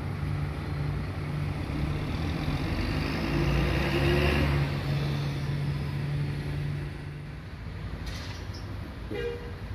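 A parked coach bus idles steadily outside a bus agent's shelter in Banjarnegara, its engine giving off a continuous low drone that swells a little in the middle and then eases back. No one speaks.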